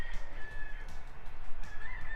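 Backyard fowl call close by, a couple of drawn-out honking clucks over faint outdoor background, with no one speaking.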